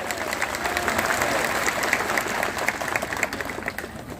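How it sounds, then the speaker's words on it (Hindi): Crowd applause at a Congress political rally in Mandhata, a dense, steady roar of many hands clapping that builds and sustains throughout, with faint cheering mixed in. "तालियों की गड़गड़ाहट से जवाब।"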